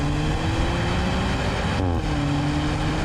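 A 2019 Kia Forte Turbo GT's exhaust note booms loud and close under acceleration, its steady droning tone dipping briefly at a gear shift before the rising pitch resumes.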